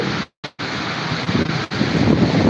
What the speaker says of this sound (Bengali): কীরকম বাতাস রয়েছে এই যে দেখেন প্রচণ্ড বাতাস